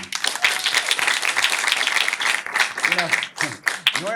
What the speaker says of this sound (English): Normally we wouldn't clap for everybody specifically